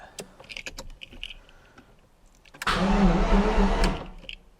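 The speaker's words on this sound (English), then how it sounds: "Oh wow, it does crank." After a few scattered clicks and taps, the engine of an abandoned Jaguar XJR-S cranks with a loud, rapid churning whir for about a second, then stops abruptly.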